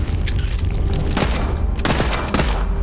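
Rapid pistol fire from a Borderlands 3 shooter, a dense string of loud shots over steady battle noise, with a few sharp cracks standing out near the end.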